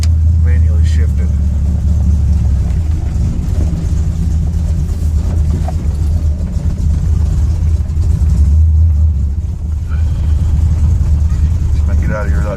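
A car fitted with a TCI 3000 rpm stall converter and a transmission with a broken sprag, manually shifted, drives in cold rain; a steady, loud low engine drone with road and rain noise throughout, rising slightly near the end.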